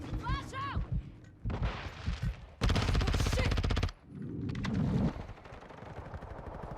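Rapid VEL 46 (HK MP7) submachine gun fire in Call of Duty Modern Warfare 2, several short and sustained automatic bursts up close, with someone talking between and under the shooting.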